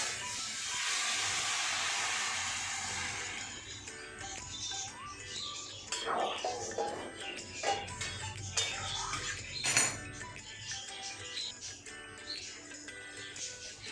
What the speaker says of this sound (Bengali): এই যে গরম জল আমি দিয়ে দিচ্ছি।